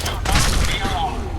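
A nuka grenade goes off in Fallout 4 with a sharp blast and rumbling boom, followed by a decaying crackle and debris-like rattle.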